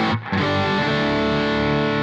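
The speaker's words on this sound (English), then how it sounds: "you notice it's kind of quite scratchy and tight." Electric guitar played through a custom-built Red Gizmo fuzz pedal gives a scratchy, tight, heavily distorted sustained chord after a brief pick attack, loud and alone with no talk.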